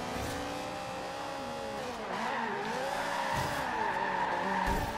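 A car drifts and skids in the racing video game Forza Horizon 2, with a long wavering tire squeal over a steady engine drone and a couple of dull bumps toward the end.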